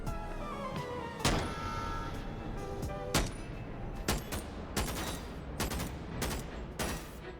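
Rapid gunfire bursts and sharp single shots ring out in the virtual reality game Bonelab, dense and loud over a busy, reverberant background of continuous action sounds.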